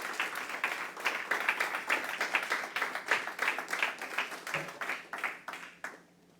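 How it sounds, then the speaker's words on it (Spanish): A church congregation claps together in steady, fairly even rhythm as a worship offering of applause, the claps close and full, thinning out and stopping near the end. "¿Cuántos dicen amén y le dan una ofrenda de palmas al Rey de Reyes y Señor de Señores?"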